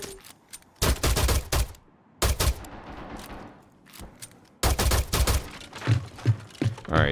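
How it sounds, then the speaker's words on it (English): Pistol fired repeatedly at a barricade in a competitive shooter game, sharp bursts of shots in clusters separated by short quiet gaps, loud and close. "Trying to use a pistol to open a barricade."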